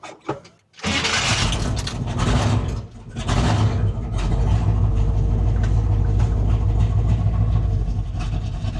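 A Chevy engine cranks briefly, catches, and settles into a loud, steady idling rumble that continues without pause.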